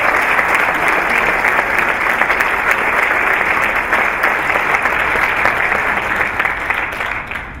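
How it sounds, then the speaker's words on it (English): A large audience at a school district address gives sustained applause for school principals, loud and continuous clapping that tapers slightly at the end. "Please give our 3-5 principals a round of applause."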